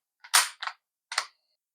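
A few sharp mechanical clicks from dry-firing a K98k rifle trigger in quick succession, then one more after a brief pause, crisp and close in otherwise silent surroundings.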